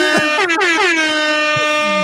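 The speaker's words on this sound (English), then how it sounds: "Let me just play some air horns." A blaring air horn sound effect, loud and close, with stacked sustained tones that swoop downward in a short repeated burst before holding steady to the end.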